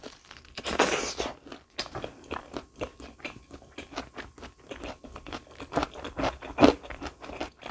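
Repeated crisp crunching bites into a crispy fried chicken-thigh burger, close and fairly loud, with chewing between bites and no talking.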